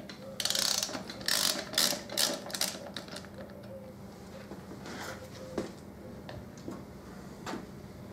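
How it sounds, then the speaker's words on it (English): A ratchet clicks in quick bursts while turning a Torx bit on a Harley-Davidson Deuce motorcycle, loud rapid ratcheting in the first few seconds, then sparser, softer clicks and taps close by. "So I'll grab my ratchet and me Torx"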